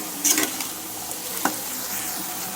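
Onions frying in a pan until browned, a steady close-up sizzle with a brief stirring scrape, no talk.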